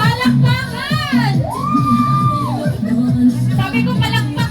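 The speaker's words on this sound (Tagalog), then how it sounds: "Sabi ko palakpak, hindi hiyaw." Crowd yelling and cheering at a live birthday celebration instead of clapping, with loud whoops, children's shouts and a sustained rising cheer filling the room, steady and close throughout.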